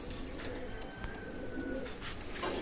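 Motiyala pigeons cooing in a loft, soft low coos repeating over a steady background hum, fairly faint and alone without talk.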